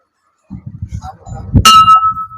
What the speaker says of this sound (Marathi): अशा प्रकारचा आपल्याला घंटा घ्यायचा आहे जो मंदिराला लावतात